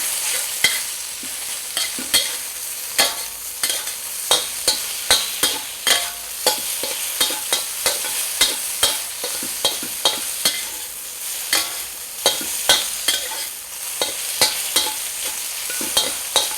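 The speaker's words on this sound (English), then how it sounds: "start stir frying it" Steady sizzling of thinly sliced pork stir-frying in a hot pan, punctuated by frequent sharp scrapes and clacks as a utensil stirs it, with no talk.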